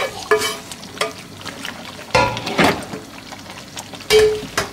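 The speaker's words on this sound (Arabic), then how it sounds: "نخلطهم بهاي الطريقة ونخليها تغلي" A spoon stirs Iraqi shibzi chicken stew in a pot, with loud scraping, sloshing bursts at intervals and a steady sizzle underneath.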